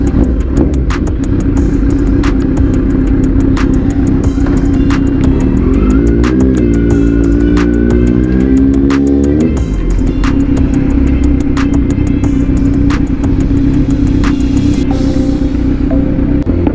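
A Kawasaki Z900 motorcycle climbing a steep road in Lincoln Heights, engine droning loud and close throughout, pitch rising and falling as it revs mid-climb, with rhythmic ticking and wind buffeting over it.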